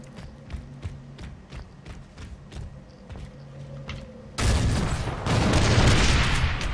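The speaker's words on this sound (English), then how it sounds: "I'm going after this dude with the boom shot." Boomshot grenade launcher fired in the Gears of War Ultimate Edition beta. A few seconds of quiet rhythmic tapping and clatter give way to a sudden loud, broad blast that roars on for the last couple of seconds.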